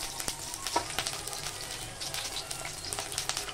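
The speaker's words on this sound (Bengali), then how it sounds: "এবার খুব তেল ছিটাচ্ছে।" Oil spatters and sizzles steadily in a hot pan as garlic cloves fry for a chutney, a dense crackling hiss with close, irregular pops and no voices.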